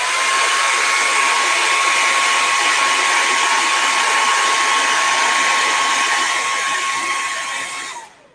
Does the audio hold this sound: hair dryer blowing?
yes